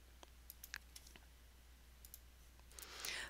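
Several sharp, light mouse clicks spaced irregularly at close range in a quiet room, followed by a brief burst of soft hiss toward the end.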